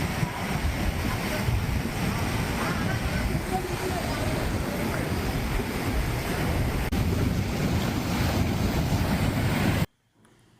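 Rough, storm-driven sea waves crash along a fishing village coast in Kerala, a continuous roar of surf with heavy wind buffeting the microphone before an abrupt stop.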